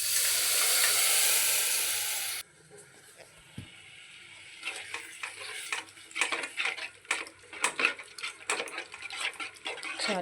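Blood is stirred into spiced masala frying in a pan: soft sizzling with a run of scraping, clattering stirring strokes that grow busier toward the end, fairly quiet and close.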